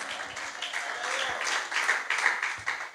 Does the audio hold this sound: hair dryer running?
no